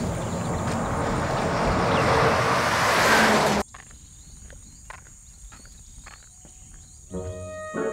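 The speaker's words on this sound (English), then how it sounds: "Sounds like a truck." A truck roars past loudly and close on a road for a few seconds, then cuts off abruptly, leaving quiet outdoor ambience with faint clicks.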